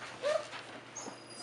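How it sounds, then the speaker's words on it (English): An Australian Labradoodle puppy gives a brief, high, thin whimpering yip, faint and close against a quiet indoor room, with a second soft squeak shortly after. "Rome's the one barking"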